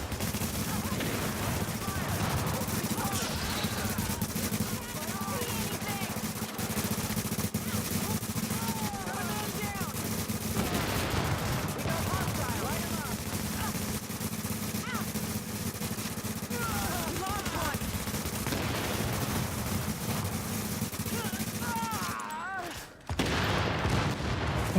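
Sniper rifle fire rolls through a dense stretch of combat in The Division video game, the shots thudding amid constant battle noise with a voice talking over it, until a sudden sharp crack near the end.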